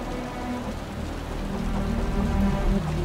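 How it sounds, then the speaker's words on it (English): Heavy rain in the video game Wuthering Waves during a grand warstorm, a dense, loud, continuous downpour with a low rumbling undertone. "The rain's getting heavier."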